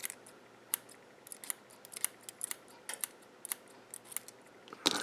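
Scissors snip through cotton fibres for an iJoy Tornado atomizer: a quick series of sharp, close clicks and cuts in irregular bursts against a quiet background.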